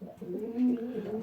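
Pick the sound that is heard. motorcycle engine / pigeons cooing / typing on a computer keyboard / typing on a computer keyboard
pigeons cooing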